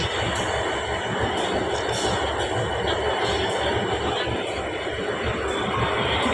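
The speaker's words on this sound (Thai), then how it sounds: "เป็นรถส่งขบวนสินค้าจ้ะ" A freight train rolls past a Thai railway station close by, a loud continuous rumble of wheels on rails with brief metallic squeals and rattling wagons throughout.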